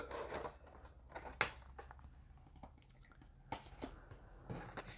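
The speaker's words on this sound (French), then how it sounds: "notre figurine que l'on va déballer tout de suite" A Marvel figurine, number 4 of the Altaya collection, is unpacked from its packaging, giving faint scattered clicks, rustles and a few sharper snaps from close by, with no talking.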